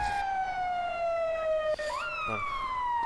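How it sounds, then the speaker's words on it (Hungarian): In a video game roleplay, an ambulance siren wails with long falling tones, briefly cutting out and restarting on a rising sweep, loud and close, while a voice speaks faintly underneath. "Hát a mentő."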